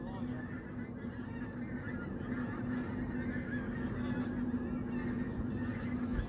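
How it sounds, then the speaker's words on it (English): A flock of geese honks repeatedly high overhead in flight, fairly faint and distant against a steady outdoor background hum, with no talking. "I don't know if you can hear the geese in the background, but they're up there."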